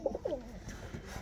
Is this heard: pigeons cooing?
yes